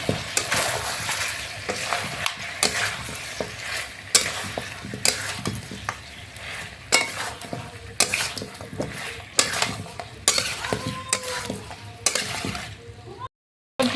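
A ground spice paste of fried dried chillies goes into a frying pan and is stirred, giving steady sizzling with repeated scraping and stirring strokes close by, alone and without voices, ending in a brief drop to silence.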